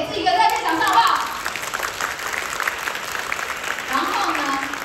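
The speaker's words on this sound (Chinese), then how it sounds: "我们给自己一个热烈掌声，好不好？" Studio audience applause at a NuSkin corporate leadership event: a steady wash of many hands clapping that lasts throughout, with a voice carrying over it.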